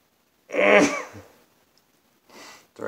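A person sneezes hard at close range, one loud explosive sneeze followed by a breathy exhale and then softer sniffing or another faint start of a sneeze, with quiet gaps between.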